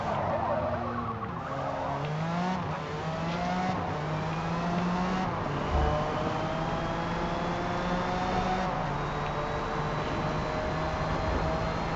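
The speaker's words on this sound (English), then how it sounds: "that car is fast" Race car engine in the video game Forza Motorsport on the Yas Marina Circuit, a loud high-revving whine rising and falling through gear shifts, with tyre squeal and another car's engine audible, no talking.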